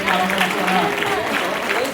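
Loud applause from an audience fills a seventh-anniversary celebration honouring 25 years of a Dasavani devotional programme. The clapping is steady and dense for the whole stretch, with faint tonal sounds running beneath it.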